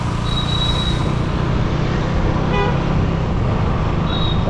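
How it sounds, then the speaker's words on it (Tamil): A vehicle horn sounds briefly a couple of times amid loud, steady road and engine noise, heard from a motorbike. "அவரு பாரு ஹார்னை மெம்மேலே அழுத்திட்டு வராரு"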